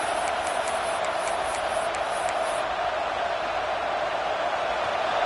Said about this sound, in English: home crowd is fired up and ready to make a difference today